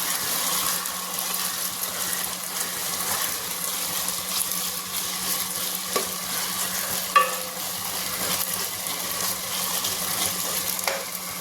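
Cut potatoes sizzling in oil in a pan for a brinjal-potato curry, a steady close frying hiss with occasional stirring clinks and scrapes.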